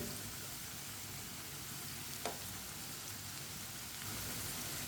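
Mirch pakoras fry in hot oil with a quiet, continuous crackling sizzle, and a brief scrape midway marks them being turned over.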